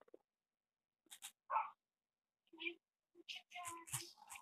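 Minecraft dog, a tamed wolf, gives a few short barks and whimpers at fairly close range, broken up by gaps, with a player talking over parts of it.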